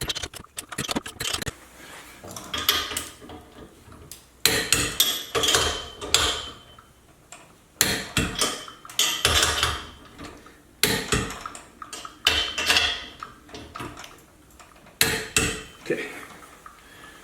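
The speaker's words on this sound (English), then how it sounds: "So I have my torque wrench set at 60 foot-pounds." A torque wrench set to 60 foot-pounds tightens a camper's wheel lug nuts in repeated close bursts of metallic ratcheting and clanks, separated by short pauses, with a brief spoken word.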